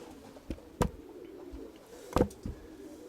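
Birds in the background, with a few sharp flapping or knocking bursts; the pigeons' soft cooing is not clearly audible.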